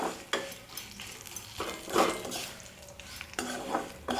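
Chillies fry in oil in a pan over medium flame, a faint sizzle beneath frequent scraping and clinking strokes of a spoon stirring against the metal.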